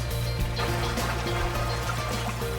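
A wild otter swims through the water off Shetland, driving itself with its muscular tail and webbed feet; steady close splashing and liquid churning runs unbroken throughout, with no voices.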